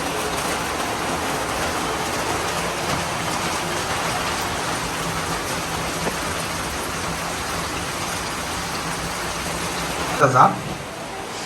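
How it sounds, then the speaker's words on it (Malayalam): Heavy rain falls in a dense, continuous hiss that stays loud and even from start to finish, with a brief knock near the end. "നല്ല മഴ മഴയ്ക്ക് സ്വാതന്ത്ര്യം കിട്ടിയിട്ടുണ്ട് ഇതുപോലെ മഴ"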